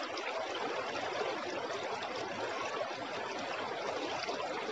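Murti river water flowing, a steady faint rushing stream with soft trickling texture throughout, no voices.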